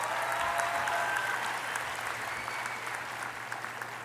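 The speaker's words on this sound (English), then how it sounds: "So let's give them a round of applause." Sustained applause from a large commencement ceremony crowd honoring dance graduates, a steady wash of many hands clapping that eases slightly in volume over several seconds.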